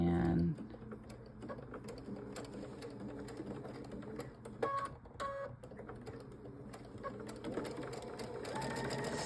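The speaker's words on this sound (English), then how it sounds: "sew all the way across." Sewing machine stitching quilt fabric, a steady close mechanical whirr with rapid needle chatter running throughout, with a brief pause midway and talk mixed in.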